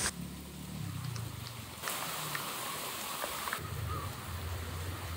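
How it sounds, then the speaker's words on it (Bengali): Steady rain falling outdoors in the hills of Bandarban, a dense continuous hiss with low rumbling in the background, loud and close throughout with no voices. "এই বৃষ্টি দেখে আমরা ভিজতে নেমে পড়ছি, মানে ইচ্ছা হচ্ছে যে এই বৃষ্টিতে একটু ভিজি,"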